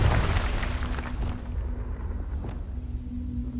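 A Confringo fire spell exploding in Hogwarts Legacy, a deep, loud boom that hits at once and rolls off into a low rumbling decay over a few seconds.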